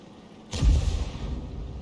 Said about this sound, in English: He fired as he pulled back.